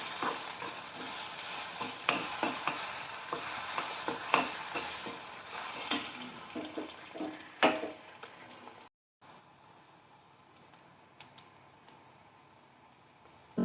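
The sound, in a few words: eggs frying in a pan on medium flame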